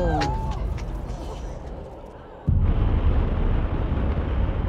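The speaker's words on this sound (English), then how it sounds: "Liftoff of the mighty Delta IV Heavy Rocket with NASA's Parker Solar Probe." Delta IV Heavy rocket lifting off carrying NASA's Parker Solar Probe: a sudden loud, broadband roar surges in and holds steady as a dense rumbling crackle, following quieter distant noise with a few brief bird-like chirps.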